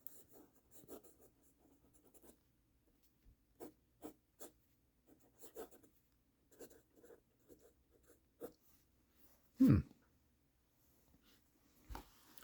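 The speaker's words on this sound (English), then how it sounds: "It's not my most broad nib, but it writes very smoothly." A Pelikan fountain pen with a broad-ish nib writes on paper, producing faint, close scratchy strokes in short bursts with quiet pauses and one louder thump.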